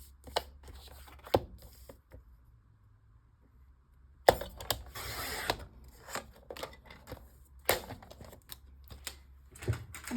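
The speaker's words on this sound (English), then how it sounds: "we're going to cut off a 1-inch strip" Scissors cutting a 1-inch strip from a leftover paper file folder, with close, crisp snips and rustling paper handling in irregular bursts, separated by quieter pauses.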